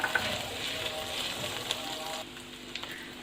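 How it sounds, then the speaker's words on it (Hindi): Mushrooms and chicken cook in a pan for Schezwan soup, giving a steady close sizzle with a few light stirring clicks; the sizzle quiets slightly near the end. "अब इसके अंदर मैं डाल रही हूँ 1/2 कप मशरूम्स। देखें, मैंने उनको छोटे पीसेस में काट लिया। एक मिनट इसको हम पकाएंगे चिकन के साथ"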